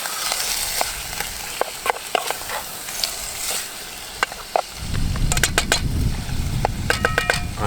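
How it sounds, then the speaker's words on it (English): Beef seared in a pan on a Trangia stove at a wild camp in Weardale crackles with a close sizzle and sharp stirring scrapes, the frying growing fuller and louder toward the end. "So we'll just try and sear it"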